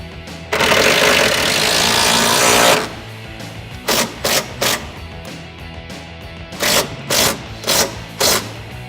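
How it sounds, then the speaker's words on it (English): Power tool driving a 14mm socket to tighten the new hardware on a Jeep Wrangler TJ Unlimited side step: one long buzzing run of about two seconds, then several short bursts, loud and close. "Using a 14mm socket, tighten the new hardware down."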